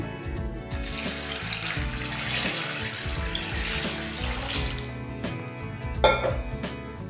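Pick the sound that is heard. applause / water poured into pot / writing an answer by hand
water poured into pot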